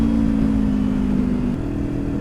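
A Kawasaki Ninja 250 idles and revs slightly at a bike workshop, a steady close engine drone that dips a little near the end.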